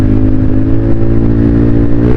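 A modified Yamaha Aerox scooter with a 63 mm engine cruises along, its mid-pitched engine humming steadily and loudly up close with a constant whirring drone.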